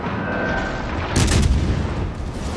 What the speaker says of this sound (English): Just shooting HE right now, superstructure.